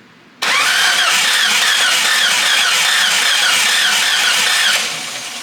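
An engine cranked over without firing during a compression test, with a loud, steady, fast rhythmic churning that starts abruptly and runs on, easing slightly at the end.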